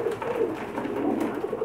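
Pakistani breeder pigeons kept in Jeddah coo steadily nearby, a low, throaty warble that rolls on without a break over faint background noise.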